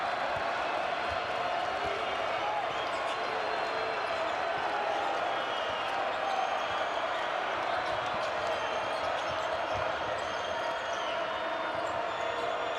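Home crowd noise fills a college men's basketball arena during a Big 12 game between Cincinnati and Colorado, a steady roaring wash of cheering held at an even level throughout.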